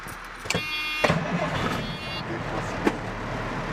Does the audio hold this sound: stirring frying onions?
no